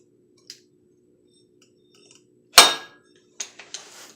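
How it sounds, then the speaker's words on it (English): A PTO clutch being slid onto a crankshaft keyway, giving one loud metallic clunk as it engages, then a few lighter metal clinks and rattles close by; faint taps come before it. "slide the clutch back until it engages"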